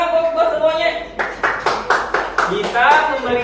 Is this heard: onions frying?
no